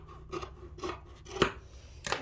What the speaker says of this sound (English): now I follow this corner to make it 90 degrees, and now I cut it